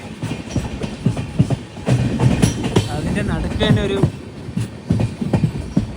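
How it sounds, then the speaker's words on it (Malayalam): Duranto Express rolling into Udupi railway station, a steady rumble of carriages with rhythmic wheel clatter and a brief squeal, while a voice speaks over it. "ട്രെയിൻ ഇപ്പോൾ ഉടുപ്പി റെയിൽവേ സ്റ്റേഷനിലേക്ക് എത്തുകയാണ്"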